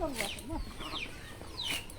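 Chickens clucking in a village yard, a few short, quiet clucks and squawks scattered over faint outdoor background noise.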